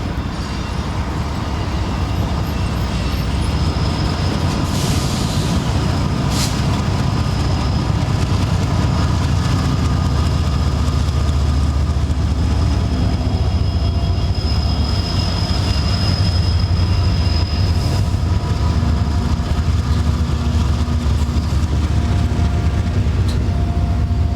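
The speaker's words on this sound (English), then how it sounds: "A mixed train heads out of Roseville to a northern destination." A Union Pacific mixed freight train rolls out of the Roseville yard, a continuous loud rumble of wheels and engine with steady rail noise and faint higher squeals, unbroken throughout.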